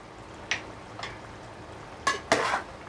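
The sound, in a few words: stirring biryani with yogurt and garam masala in a pot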